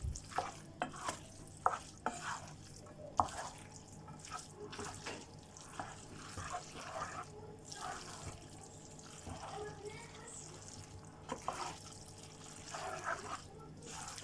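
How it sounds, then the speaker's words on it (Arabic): Pasta being stirred through sauce in a pan for Cantonese-style Chinese noodles, with wet scraping and clinking strokes at an irregular pace, close and fairly quiet, plus faint sizzling beneath. "نقلب المكرونة مع الصوص كويس"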